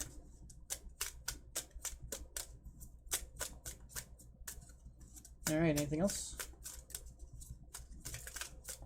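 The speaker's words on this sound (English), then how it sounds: "I'm gonna give it one more shuffle" Tarot cards shuffled by hand in a quiet room, a rapid series of soft crisp clicks and riffles, with someone speaking briefly.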